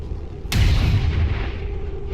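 A single heavy gunshot from the video game XCOM 2 cracks sharply and then rolls into a booming rumble that fades slowly, loud and close over a low ambient background.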